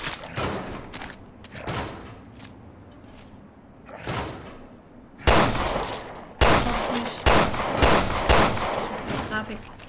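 Gunshots in Resident Evil Revelations 2 ring out as a handful of loud, sharp cracks bunched in the second half, with quieter thuds before them and people talking in the background.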